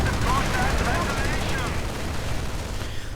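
Battle noise in a real-time strategy game, with Rangers and a light machine gun firing, forms a steady dense wash of overlapping gunfire and booms at a constant loud level over the whole stretch.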